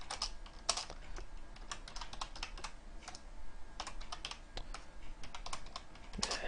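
Typing on a computer keyboard while coding a Qt application: quick irregular bursts of clicking keystrokes, fairly quiet and close, with no voice over them.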